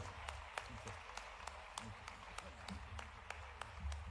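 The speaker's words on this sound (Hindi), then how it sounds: "आपकी तालियां अनवरत जारी रहना चाहिए।" Faint scattered applause from an audience at a Mahavir Janma Kalyanak festival gathering in Bhopal, sparse claps in an irregular rhythm with low murmuring voices beneath.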